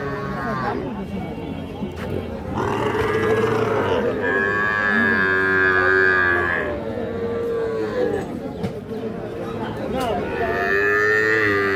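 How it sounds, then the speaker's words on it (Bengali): Young bull calves at Ambari cattle market bellow in long, loud, drawn-out moos, several calls one after another, with people's voices murmuring in the background. "আর এই পাশে দেখছি এগুলো কিন্তু সব ষাঁড় বাচ্চা।"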